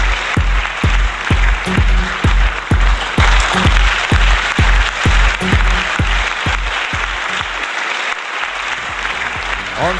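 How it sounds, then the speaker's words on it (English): Loud, sustained crowd applause for an actress coming on stage at an Indian film carnival, steady throughout with rhythmic low thumps running underneath the clapping. "Let the applause continue, ladies and gentlemen."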